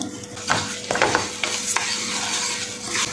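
Lentils for paruppu payasam roast in ghee in a pan, with a continuous sizzle and repeated close scraping stir strokes of a spoon against the pan.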